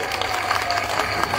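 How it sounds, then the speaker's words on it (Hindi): Applause from a large crowd at a religious padyatra gathering, a dense, steady patter of many hands clapping at moderate loudness throughout, with no voices standing out. "जोरदार ताली बजा करके"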